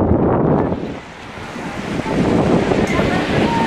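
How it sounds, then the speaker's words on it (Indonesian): Strong wind blowing at a beach in South Lombok facing the Indian Ocean, a loud continuous roar buffeting the microphone with surf mixed in, dipping briefly before surging again. "kita bisa menikmati hembusan angin dari ini bagian Lombok Selatan ya."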